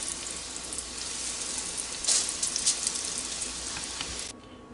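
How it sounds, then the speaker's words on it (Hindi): Minced beef and potato rolls fry in oil over medium heat, a dense continuous sizzle that swells briefly midway and then drops to a quieter hiss near the end, without any talk. "तो अब बाकी रोल भी मैं इसी तरह फ्राई कर लूँगी मीडियम आंच पे"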